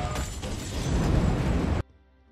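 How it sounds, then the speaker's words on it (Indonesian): A loud, roaring blast with crackling debris rumbles for almost two seconds, then cuts off abruptly to a quiet hum. "Akibat ledakan tersebut,"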